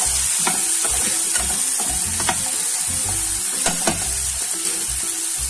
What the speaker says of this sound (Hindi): इसमें हम हरी मिर्च कटी हुई और कड़ी पत्ता ये भी डाल देंगे।